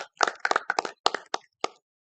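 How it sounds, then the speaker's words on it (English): Brief scattered clapping at a city council meeting, a handful of sharp, close hand claps in an uneven burst that quickly thins out and stops, leaving silence. "So give them a round of applause tonight"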